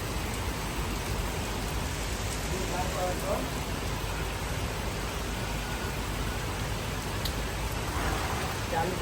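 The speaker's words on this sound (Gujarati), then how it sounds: "વરસાદ ચાલુ થઈ ગયો છે" Heavy rain falls at night as a dense, unbroken hiss and roar that stays even and loud throughout, with no distinct drops standing out.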